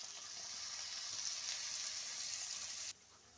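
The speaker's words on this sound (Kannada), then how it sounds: "ನೋಡಿ, ಈಗ ಕ್ಯಾಪ್ಸಿಕಮ್ನ ಚೆನ್ನಾಗಿ ಫ್ರೈ ಮಾಡ್ಕೊತೀನಿ." Capsicum fries in butter in a kadai, a steady close sizzle with a bright hiss that holds evenly, then cuts off abruptly near the end.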